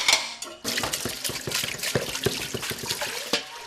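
Dishes washed in a home kitchen, with running water from the tap, clattering pots, plates and cutlery in irregular knocks and splashes, close and alone without talk.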